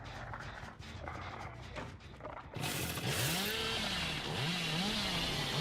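A chainsaw revs up loudly in Dead by Daylight, a dense buzzing roar that rises and falls in pitch, cutting in sharply after a stretch of quieter game noise.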